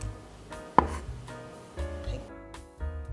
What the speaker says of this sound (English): Cut the end off. Then slice them on the angle.